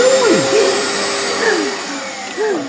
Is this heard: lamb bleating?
no